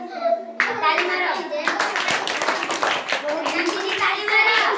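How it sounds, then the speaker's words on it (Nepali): A group of children clap their hands together in a steady, continuous patter of many close claps, with children's voices chattering and calling out over the clapping throughout. "ताली मारो"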